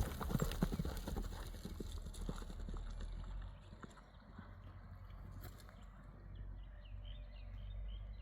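Horses run at an outdoor horse market, their hooves clip-clopping in a quick, steady rhythm at moderate distance, with faint background voices and ambient outdoor noise.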